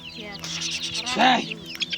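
Hens clucking in a rural farmyard where sheep are kept, a short run of nearby clucks rising to a louder call toward the middle, over a soft outdoor background.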